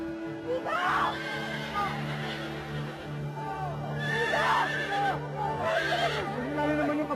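A horse whinnies in bursts, with three distinct neighs rising over a steady low hum and background noise, fairly close and loud.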